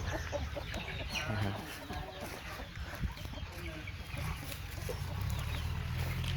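Free-range backyard chickens cluck and murmur in a busy flock, soft and continuous, with a person talking over them.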